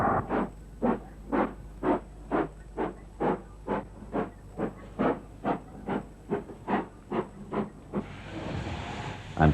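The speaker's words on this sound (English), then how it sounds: "At Banbury, we see Castle class locomotive number 5046, Earl Cawdor." Castle class steam locomotive number 5046 Earl Cawdor at Banbury, chuffing in a steady run of about twenty sharp exhaust beats, each a hissing burst, before a broader rush of steam and rail noise takes over near the end.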